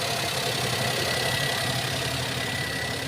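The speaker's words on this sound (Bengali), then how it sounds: "এই যে ফাইনালি গাড়িটা স্টার্ট হয়েছে" A 2021 used car's engine idles steadily just after starting, a close, even hum with no talk over it.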